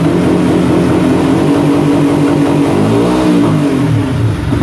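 A motorcycle engine held at high revs on launch control, a loud continuous buzzing drone with slight pitch wavering, then a brief dip and recovery near the end.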